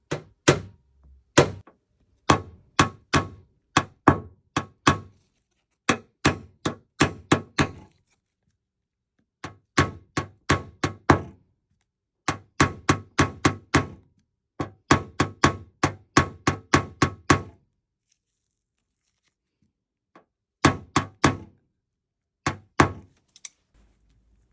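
Light taps knock down a small car body dent during paintless dent removal. They come as crisp, close clusters of quick knocks with short pauses between the groups.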